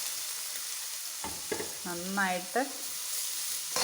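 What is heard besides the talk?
ginger frying in hot coconut oil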